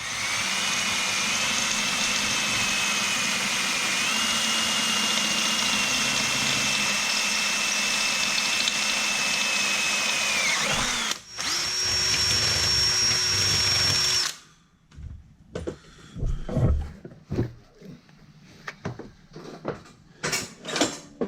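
A power drill boring pilot holes in a Snapper rear-engine lawn mower housing, a loud steady whine for about eleven seconds, a brief stop and a shorter burst, then scattered clanks and handling noises.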